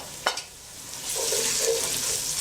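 Onion and red and green bell peppers fry in a pan over an outdoor wood fire, a short clack of a utensil followed by a steady, close sizzle with no voices.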